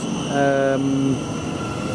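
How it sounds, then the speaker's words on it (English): A Class 700 and an LNER Azuma running between Leeds and London King's Cross pass through Stevenage station on the East Coast Main Line. There is a rising electric traction whine with tonal harmonics, then a steady rolling rumble. "we've also got a 700 and an Azuma, which are going from Leeds to London King's Cross"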